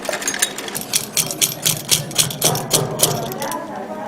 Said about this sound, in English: Here, women like Sosan learn skills such as sewing and weaving.